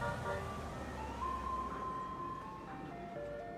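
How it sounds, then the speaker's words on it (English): An ice cream truck's jingle tune plays outdoors at a moderate distance over a low rumble of road traffic, its melody drifting steadily as the truck passes by, with no talk. "Is that the ice cream truck, Rex?"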